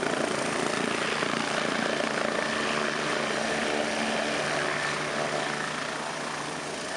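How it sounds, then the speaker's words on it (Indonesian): An NBO-105 Bolkow twin-turboshaft light utility helicopter runs steadily with a loud, continuous rotor and turbine roar that holds evenly throughout, with no voices. "Sebagai helikopter angkut ringan serbaguna yang ditenagai dua mesin turbosaf"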